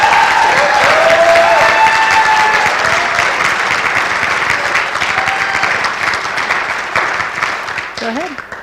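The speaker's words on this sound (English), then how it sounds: "please join me in applauding our next generation of business professionals" An audience at a college national signing day ceremony applauds in sustained, loud clapping with some cheering. It slowly fades over several seconds, and a voice briefly speaks near the end.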